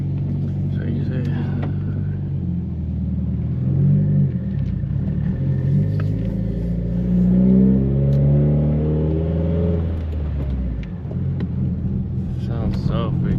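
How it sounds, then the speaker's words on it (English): A 2016 Subaru WRX with a new downpipe rumbling and revving while backing up, a deep continuous engine drone with rising turbo tones, close and loud throughout. "you can hear the turbo while backing up"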